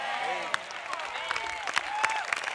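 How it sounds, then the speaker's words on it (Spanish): Scattered clapping from a church audience patters unevenly, mixed with a voice speaking Spanish over it. "Un aplauso, Jesús."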